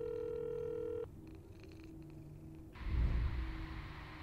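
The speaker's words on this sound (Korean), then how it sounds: "아, 고양이 있나보다." Cat purring in the horror video game Pieces of Me, a low rumbling purr that swells up loud near the end after a steady electronic telephone tone cuts off.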